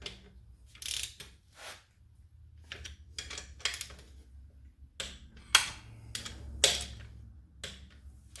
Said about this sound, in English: Got my torque wrench set to 22 foot-pounds. I'm going to go ahead and torque these.